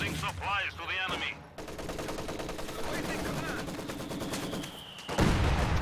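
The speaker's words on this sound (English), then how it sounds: "Heavy mortar and standard mortar are bombarding that machine gun." Video game battle with heavy and standard mortars bombarding a machine gun position: dense rapid machine-gun fire rattles throughout, broken by deeper mortar blasts, with a voice speaking briefly over the opening and a loud explosion near the end.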